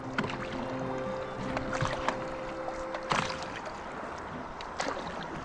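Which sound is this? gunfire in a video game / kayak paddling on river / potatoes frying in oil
kayak paddling on river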